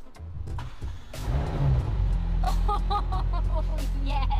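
A McLaren Senna supercar's engine cranks and catches, then settles into a loud, deep idle with bursts of revving. The car is heard close up with no talking.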